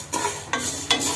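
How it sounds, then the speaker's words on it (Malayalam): Vermicelli roasting in ghee in a pan for payasam is stirred three times, each stroke a brief scraping swish over a faint sizzle. "ഇതിന് ചെറുതായിട്ട് വെർമസലിയെ നെയ്യിലിട്ട് ചെറുതായിട്ട്"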